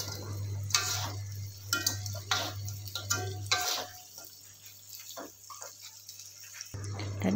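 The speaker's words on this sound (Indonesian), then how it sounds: "kita masukkan tahunya dan ikan yang udah digoreng tadi. Kita aduk hingga rata." Tofu and previously fried fish are stirred together in a pan, giving irregular scraping and clinking taps over a low sizzle and a steady background hum, close by.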